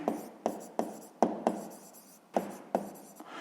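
Pen writing by hand on paper while working a sixth-grade maths exercise, a series of short scratchy strokes with quiet pauses between them, close and soft, no voices.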